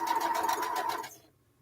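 A sewing machine runs steadily, stitching 1.5 inch sashing strips onto a quilt, a close continuous motor whir for about a second before it stops and fades to quiet.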